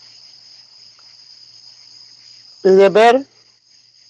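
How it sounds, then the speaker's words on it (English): Crickets chirping outdoors at night, a steady high continuous trill throughout, briefly interrupted by a short spoken phrase near the end. "What I heard there, crickets?"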